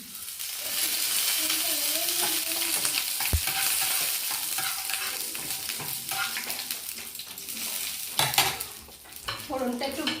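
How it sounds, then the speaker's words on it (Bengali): Tempering spices fry in hot oil in a home kitchen in Kolkata, giving a steady, moderately quiet sizzle with scraping and clinking from stirring, plus one sharp knock midway. "ফোড়নটা একটু ভাজা ভাজা হোক"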